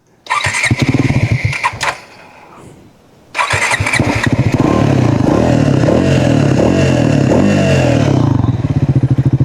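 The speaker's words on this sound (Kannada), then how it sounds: "ಸೊ ಈಗ ಇದ್ರದ್ದು ಎಕ್ಸಾಸ್ಟ್ ನೋಟ್ ಕೇಳಿಸ್ತೆ" A Triumph Scrambler 400 XC motorcycle clatters as its engine is started, stalls briefly, then fires again and settles into a loud, close, steady exhaust note.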